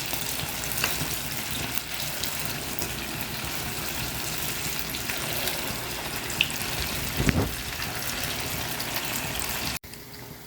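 Punugulu fritters made from leftover dosa batter deep frying in hot oil, a continuous bubbling sizzle with a few sharper pops, ending abruptly.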